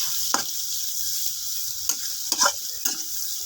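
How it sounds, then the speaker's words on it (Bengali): Chopped onion and green chili fry in hot oil, a soft continuous hiss punctuated by a few sharp spatula scrapes against the pan. "তেলটা গরম হয়ে গেছে, দিয়ে দেবো পেঁয়াজ কুচি আর অল্প একটু কাঁচামরিচ কুচি। ভালোভাবে ভেজে নেব।"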